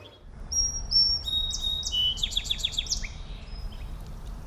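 Bird chattering during courtship at dummy nests: a rapid run of high chirps and tweets in a short series, fairly close, with a steady low background rumble and no voices.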